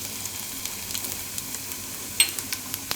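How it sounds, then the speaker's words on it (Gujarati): Garlic and kalonji seeds sizzle in hot oil, a steady soft crackle with small pops and one sharper spit near the end, fairly close and with no talk. "તેલ આપણું હવે ગરમ થઈ ગયું છે. તો એમાં લસણ નાખી દેવું આપણે અને કલોંજી નાખી દેવું"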